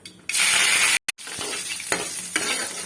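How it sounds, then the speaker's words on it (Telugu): Mustard seeds and curry leaves hitting hot oil for a tempering, a loud sudden sizzle that briefly cuts out, then carries on crackling and spitting close by. "ఇలా ఫస్ట్ అయితే ఆయిల్ వేసుకొని తాలింపు గింజలు వేసుకోవాలి"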